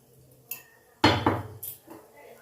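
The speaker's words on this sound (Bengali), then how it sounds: "তো মশলাটা এবার আমি ভালো করে নাড়িয়ে নিচ্ছি, মিশিয়ে নিচ্ছি পেঁয়াজের সাথে।" A spatula scrapes and knocks in a pan while spice masala is stirred with onions for aloo dum, a few sharp metallic clatters and scrapes with quiet gaps between, close by.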